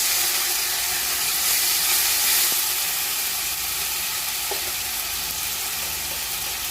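Ginger-garlic paste, green chili paste and tomato paste sizzle steadily in hot oil with browned onions for a tarka, a dense continuous frying hiss with a few faint clinks.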